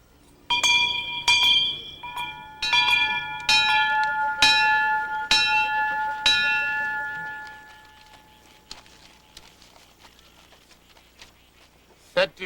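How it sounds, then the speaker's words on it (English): A bell tolls roughly once a second with ringing, clanging strikes for about seven seconds, then fades into a quiet room with faint sounds. "Toll the bell, Uchenye."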